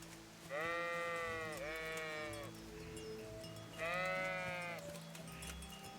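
Sheep in the medieval game Kingdom Come Deliverance bleat twice in long wavering cries, fairly close, over a low ambient hum and faint background activity, with no voices.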